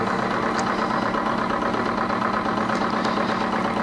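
A Stirling engine with a heated back side runs steadily, driving a generator through a pulley system, a constant close mechanical whir and hum with a faint rhythmic knock and no pauses.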